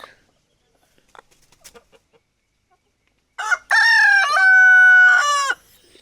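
After a few faint taps and rustles, a rooster crows loudly and close by, one long drawn-out call.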